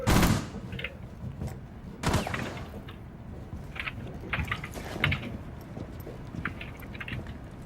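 Bursts of gunfire in a shooting video game crack out loud at first, then carry on as scattered, softer distant shots and impacts.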